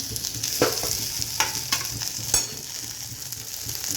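Okra fries in a pan with a constant close sizzle, broken by a few sharp stirring clinks and scrapes. No one speaks.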